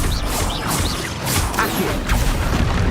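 Blasting Expulso spell cast in Hogwarts Legacy, a dense, loud burst of crashing, whooshing game effects that fills the whole moment, with thuds and mechanical clatter layered over a constant rumble.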